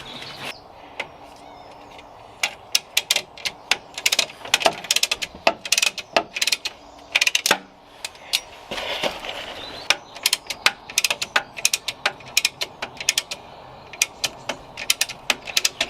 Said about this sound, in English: I'm just going to line it up with a little trolley jack underneath this subframe